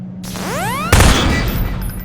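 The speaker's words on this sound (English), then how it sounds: "Now take out the firearm of your choice and shoot the device." Gunfire aimed at a device stuck on a Strider in Half-Life 2 Episode Two: a rising electronic whine, then one sharp loud blast with a rumbling, crackling tail, up close and with no talk.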